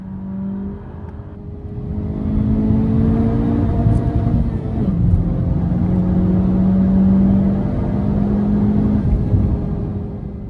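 Honda Civic FK8 on a lap of the Nürburgring Nordschleife, engine droning loud and steady from inside the car, pitch climbing through gears with a brief dip and shift midway before pulling hard again.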